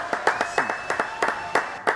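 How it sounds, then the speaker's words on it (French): An audience applauds for the drag performer Papa Drag, with a handful of separate, fairly sharp clapping bursts landing at an uneven rhythm, sounding like a small crowd rather than a full hall. "Applaudissements pour Papa Drag."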